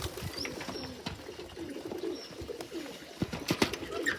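Pigeons coo softly at close range, low repeated calls mixed with light rustling and a few sharp taps toward the end.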